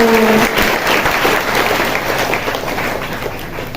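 A congregation applauds during a Hindi church sermon, loud, dense clapping filling the room for a few seconds and tapering slightly, with a brief voice at the start.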